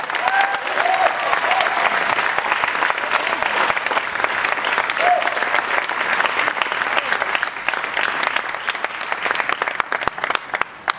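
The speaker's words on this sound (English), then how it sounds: "Let's give another nice round of applause." Audience at a 2012 graduation ceremony applauds steadily for about eleven seconds: a dense, even wash of clapping from many hands, with a few faint voices underneath.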